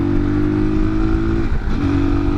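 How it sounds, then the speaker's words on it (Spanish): A motorcycle engine roars steadily close by while accelerating, its tone shifting briefly midway as it pulls on, under constant wind rumble. "La moto levanta velocidad como cohete."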